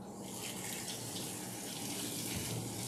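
Tap water runs in a steady, full hiss while a dog is bathed and its head is wetted by hand at very low water pressure; the flow is close and constant, with no talking.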